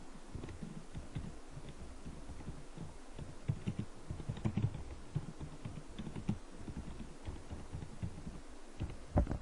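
Steady typing on a computer keyboard during software data entry, with a continuous run of close, soft key clicks throughout and no voices.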